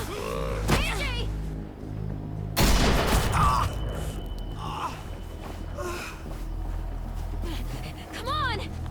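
Gunfire in The Walking Dead: The Final Season video game, a sudden loud burst of shots and booms partway through, with a gasp and tense game sounds around it.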